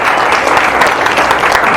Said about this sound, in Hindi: प्लीज जोर से जोरदार तालियां इनके लिए, जोरदार तालियां इनके लिए